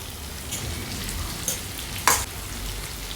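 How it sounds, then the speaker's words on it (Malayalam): Strips of garlic and ginger with sliced onion sauté in hot oil, a continuous close sizzle with a soft spatula scrape midway and one sharper metallic clack on the pan near the end. "വെളുത്തുള്ളി എടുത്തിട്ടുണ്ട് അതുപോലെ തന്നെ ചെറിയൊരു കഷ്ണം ഇഞ്ചി ഇത് രണ്ടും കൂടെ നീളത്തിന് മുറിച്ചെടുത്താണ് കേട്ടോ അതൊന്ന് ചേർത്ത് ഒന്ന് ചെറുതായിട്ടൊന്ന് വഴിച്ചെടുക്കാം"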